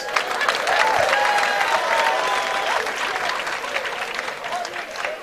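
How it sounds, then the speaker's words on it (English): An audience at a business and wealth seminar claps in a dense, sustained burst of applause, with some voices and a tonal line mixed through the clapping. "Clap your hands, all you lions."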